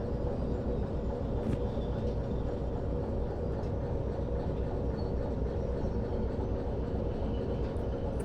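Steady low rumble of a train rolling along in the railway game Derail Valley, a continuous droning mechanical hum with faint clicks and no voices.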